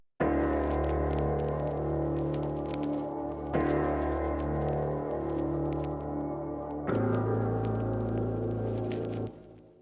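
Three sustained, reverberant piano chords with low end cut by EQ ring out one after another, each swelling and lingering smoothly before the next, ending in a soft fade.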